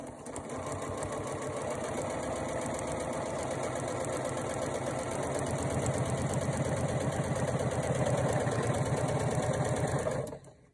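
Home sewing machine running steadily at speed while stitching a quarter-inch seam on a quilt sampler block, a continuous fast mechanical whir with rapid needle rhythm throughout, close and fairly loud, no talking.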